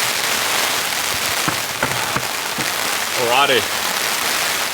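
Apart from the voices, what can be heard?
heavy rain falling on campsite tarp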